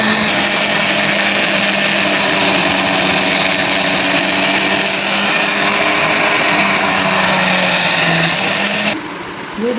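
A kitchen blender whirs steadily, blending mango ice cream mixture with milk powder in a loud, continuous motor drone that cuts off abruptly near the end.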